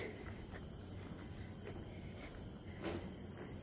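Crickets chirping in a forest trail park in Singapore, a steady, continuous high-pitched drone, quiet and unbroken, with faint outdoor ambience and no talking.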